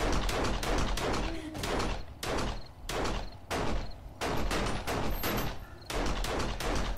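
Gunfire in the survival video game 7 Days to Die, heard as a run of loud, sharp shots spaced roughly every half second to second, each decaying quickly, with no talk.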